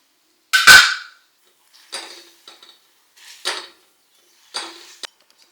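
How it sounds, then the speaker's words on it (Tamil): Date paste being stirred in ghee in a kadai, heard as a handful of separate metallic scrapes and clinks of a spoon against the pan, the first loudest and the rest lighter, with quiet gaps between them. "அதே கடாயில் இன்னும் கொஞ்சம் நெய் விட்டு நம்ம அரைச்சி வச்சுருக்க டேட்ஸோட பேஸ்ட் அதையும் சேர்த்து நல்லா லைட்டாக வதக்கிக்கலாம்."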